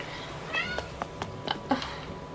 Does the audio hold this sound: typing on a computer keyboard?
no